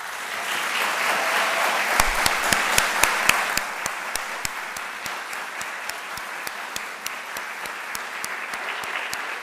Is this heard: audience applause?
yes